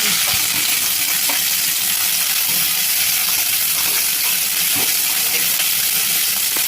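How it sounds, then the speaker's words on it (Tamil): Mustard seeds and onion sauté in hot oil in a pan, giving a steady, close sizzle with faint crackles and stirring sounds throughout, with no talking. "நல்லா பொன்னிறமாக வர வரைக்கும் வதக்கலாம்"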